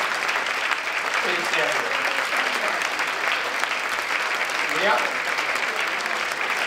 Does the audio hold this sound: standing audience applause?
yes